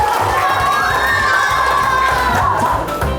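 Schoolchildren in a classroom cheer and shout together in a loud, sustained crowd burst, with clapping mixed under the voices throughout.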